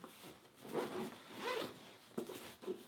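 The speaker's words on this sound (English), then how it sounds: "I'll zip this together." A carrying bag for a DJI Mavic Air drone is zipped closed in several quiet, close zipping strokes with brief pauses between pulls.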